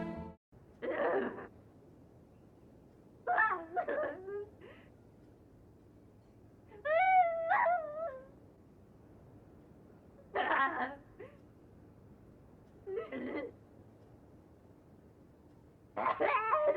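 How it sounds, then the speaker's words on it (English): In the game No, I'm Not a Human, the ballerina character screams and cries behind a closed door: six muffled, wailing vocal outbursts come at roughly even intervals, separated by near-silence. "If you stand near the door when she's inside, you can hear her screaming and crying as if she's in pain."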